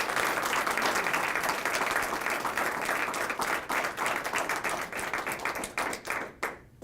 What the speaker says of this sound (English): We would like to give you a hearty round of applause